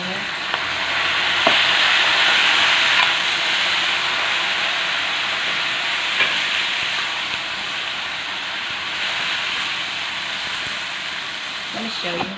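Boiled pork leg going into a hot pot for paksiw na pata, braised pork leg, with a loud continuous sizzle and hiss that eases slightly over time, plus occasional clinks of a utensil.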